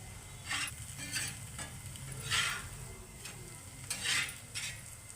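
Food roasts in a pan and is flipped to cook both sides, giving a quiet, steady sizzle with a few soft scraping strokes and light utensil contact.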